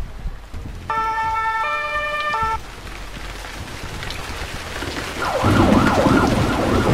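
A synthetic two-tone ambulance siren in the video game Emergency 4 (Barcelona mod) wails briefly, cutting off, over steady rumbling game ambience, then a louder rising warble sound swells near the end.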